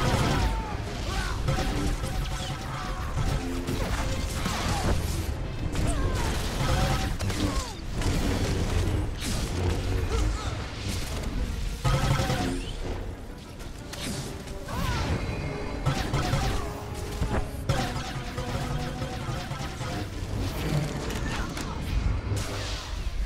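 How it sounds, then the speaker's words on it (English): Heavy artillery battery fire in the Star Wars: The Old Republic Alderaan Civil War PvP warzone, dense continuous crashes and mechanical clanks layered over battle effects and music, loud and sustained throughout. "Gun battery firing."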